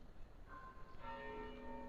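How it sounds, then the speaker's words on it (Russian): Church bells ring out at a distance in the Slovenian Alps near Golica, their sustained metallic tones entering one after another over a soft background hum, fairly faint overall. "Снова слышим колокольный звон."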